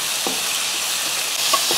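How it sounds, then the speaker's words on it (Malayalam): Onions and tomatoes sauté in a pan for a Kerala pumpkin curry, a loud continuous sizzle with a few soft scrapes of stirring, close and without voices. "ഉള്ളിയും തക്കാളി എല്ലാം കൂടെ ഒന്ന് ചെന്ന് വഴറ്റിയെടുക്കുക"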